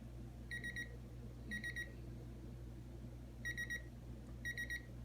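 An FCXJTU dual interval timer sounding its alarm: short bursts of high electronic beeping in groups, four beep clusters spaced about a second apart with a pause in the middle, faint and close over a low steady hum.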